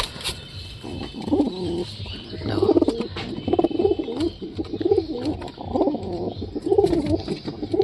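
A Giribaz pigeon coos in its coop, sitting on a newly laid egg, with repeated low throaty coos in a steady rhythm close by, under faint background chirps.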